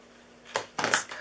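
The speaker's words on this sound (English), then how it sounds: "Let's use the ribbon scissors here." Ribbon scissors snip through ribbon while a butterfly gift box is being made, two or three short crisp cuts close by in an otherwise quiet room.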